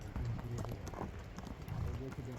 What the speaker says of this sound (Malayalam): കുതിരപ്പുറത്ത് ഉള്ള ഒരു യാത്രയിലാണ് ഞങ്ങൾ